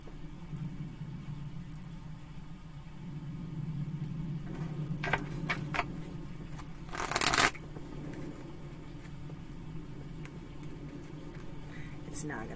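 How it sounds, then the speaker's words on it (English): Tarot cards are riffled and shuffled in a few quick bursts, one louder flurry standing out, over a low background hum with soft speech nearby. "Now I'm going to shuffle one more time"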